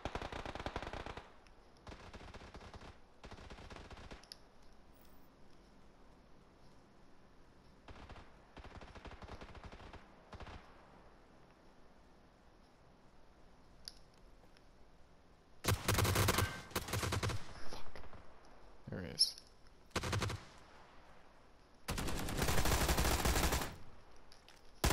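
Bursts of automatic gunfire and single gunshots from a PUBG match, some faint and distant early on, then loud, close volleys in the second half, with no talk over them.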